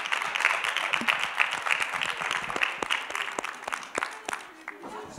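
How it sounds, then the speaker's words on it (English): An audience applauds at a drama-in-education talk, with dense, steady clapping from many hands that stays fairly loud and close throughout, with a few sharper individual claps standing out. "Give them a round of applause, ladies and gentlemen."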